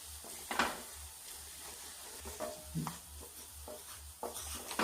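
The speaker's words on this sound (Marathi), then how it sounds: "हा लसूण तळून घेते" Garlic frying in a pan for green chilli and garlic chutney: a soft, steady sizzle broken by occasional scrapes and clinks as it is stirred, quiet and close with no voices.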